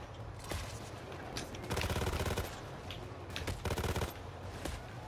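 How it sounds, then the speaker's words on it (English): Heavy gunfire from a Juggernaut enemy in Payday 2, sustained automatic fire with several louder bursts standing out over a constant background of shooting, no voices. "Oh, juggernaut, juggernaut bullets. That's what that is."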